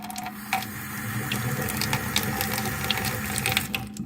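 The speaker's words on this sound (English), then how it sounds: "I'm going to put some water and let you see that the water can sit here in the bottom of that pot" Water pours steadily into an indoor plant pot that has no drainage hole, a continuous close splashing and trickling stream with small gurgles, no voices.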